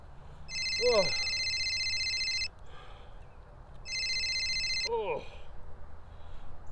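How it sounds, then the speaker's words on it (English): A telephone rings in two long electronic bursts, each followed by a short rising chirp, over a steady background hum. "Oh, phone's ringing."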